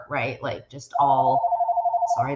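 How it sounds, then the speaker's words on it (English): A telephone rings in steady repeated electronic pulses just behind a person talking, who breaks off mid-sentence as it sounds. "that's my phone."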